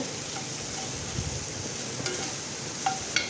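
Shallots and onions sautéing together in a pan for a clam meat roast, a continuous close sizzle with light stirring and a couple of faint clicks near the end, no voices.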